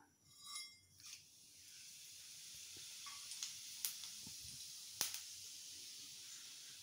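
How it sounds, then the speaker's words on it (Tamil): Cinnamon, cloves and fennel seeds sizzle in hot oil for a country chicken pepper fry: a steady, close, hissing crackle that runs throughout, with a few sharp clinks from a utensil on the pan. "சோம்பு பொரிஞ்சிருச்சுங்க."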